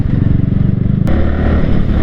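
Motorcycles with loud aftermarket exhausts blat past close by, a deep, rough, pulsing drone that swells and then settles into a steady roar.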